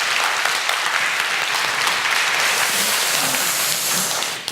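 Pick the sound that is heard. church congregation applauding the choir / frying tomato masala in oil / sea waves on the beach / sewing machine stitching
church congregation applauding the choir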